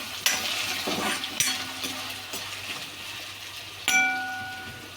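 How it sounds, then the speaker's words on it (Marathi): Potatoes being sautéed in a pan for sabudana khichdi, a soft sizzle with several sharp scrapes and clinks from stirring, one ringing metallic clank near the end. "छान परतून घ्यायचं।"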